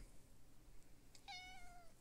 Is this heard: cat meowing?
yes